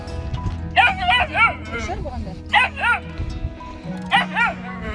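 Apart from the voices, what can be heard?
puppies yipping and barking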